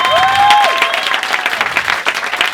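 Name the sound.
audience applauding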